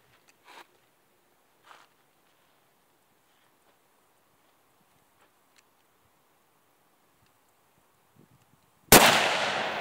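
A Mosin Nagant rifle fires a single loud, close shot near the end, preceded by a few faint clicks and handling noises in near silence.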